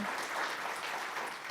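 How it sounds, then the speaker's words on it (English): Audience applause for a discussion panel at a community event on raising children, a steady wash of many hands clapping at moderate distance, fairly faint, with no talk over it. "give a round of applause for our panel"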